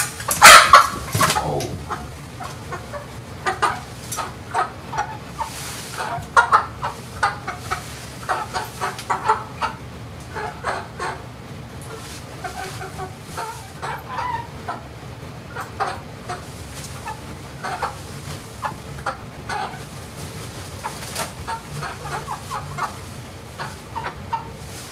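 Chickens cluck nearby in a close, busy flock, short irregular clucks and squawks repeating throughout, with a louder flurry at the start and no one speaking.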